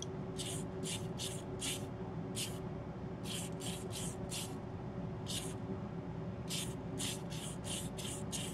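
A Mr. Color spray can sprays top coat onto a plastic model in short repeated bursts, sharp close hisses separated by pauses over a steady low hum.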